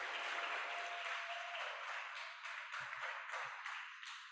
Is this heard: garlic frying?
no